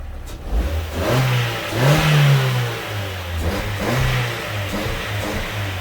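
A car engine with its stock exhaust revs up and down several times nearby, a smooth, fairly quiet mid-pitched drone rising and falling between throttle blips.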